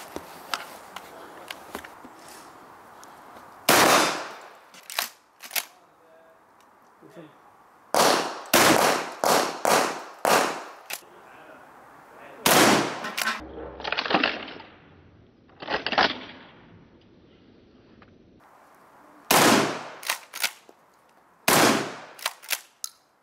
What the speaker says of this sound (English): The watermelons are still intact, so we have this beautiful shotgun